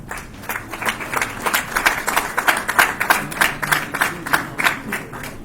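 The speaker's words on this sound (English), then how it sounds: "Please give a big round of applause to the entire board for a big, great future." An audience at a Rotaract club installation ceremony applauds the newly installed board of officials with steady, dense hand clapping that stays lively and fairly loud throughout.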